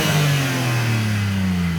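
A Lotus Elise engine and exhaust drone loudly at steady revs, the pitch gliding slightly downward, close and continuous with no talking.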